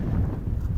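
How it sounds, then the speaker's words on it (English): Strong wind buffeting the microphone on a Lake District fell hillside near Great Cockup, in low, gusty rumbles, loud and close, with nothing else audible. "Oh, and it's windy."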